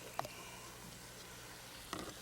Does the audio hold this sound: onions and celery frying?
yes